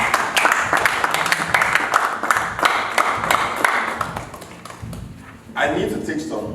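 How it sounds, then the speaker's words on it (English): Church congregation clapping in praise after a pastor's leadership teaching, steady sustained claps from many people with voices mixed in, swelling again near the end. "Give the Lord a clap of praise."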